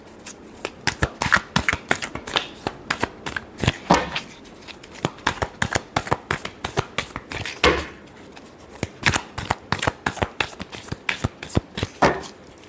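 Tarot cards are riffled and shuffled by hand in quick bursts of crisp flapping clicks, close and fairly loud, repeating with short pauses between rounds.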